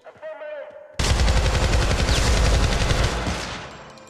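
Loud, continuous automatic gunfire from a futuristic first-person shooter, Syndicate, bursting in abruptly after a brief quieter stretch and rattling on densely before tapering slightly at the end.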